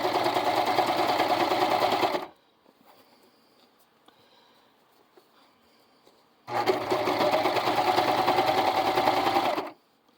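A serger with a cording foot stitches the seams of a purse, running in two loud, steady buzzing bursts of a few seconds each, separated by a near-silent pause with faint fabric handling.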